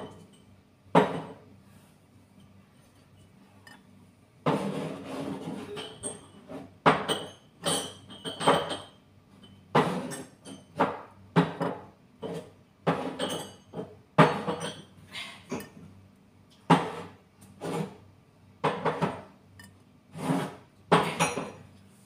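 Glasses, plates and bowls clink and knock against each other while being unpacked, producing irregular bursts of close, sharp ringing clatter separated by short pauses.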